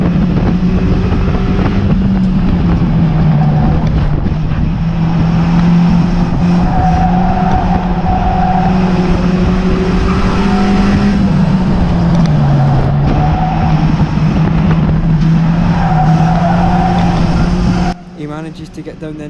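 Stock cars race at Cowdenbeath Racewall, their engines roaring steadily and loudly together through the whole stretch as the pitch rises and falls with the laps. A commentator's voice carries over the noise, and the engines drop away abruptly near the end.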